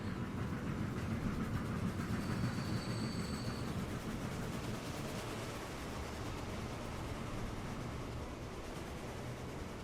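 Freight and passenger trains rumble through a busy station in the video game Transport Fever 2, a steady low rolling rush with faint rail clatter and a brief high squeal, heard alone.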